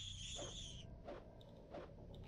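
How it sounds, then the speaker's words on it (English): Kite creatures in the game Arcanum let out a thin squealing death cry, followed by a few quieter, short yelping cries, faint and close. "their little death shouts sound like when my cat when I'm trying to give it a bath"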